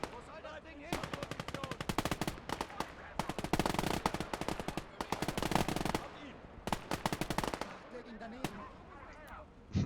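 Sustained bursts of video game machine gun fire rattle loudly and close, broken by short pauses between volleys, with a voice speaking underneath.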